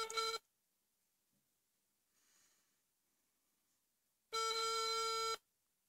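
A phone dialing a random number, with a short burst of ringback tone at the start, near silence with faint breathing, then a second ringing tone about a second long.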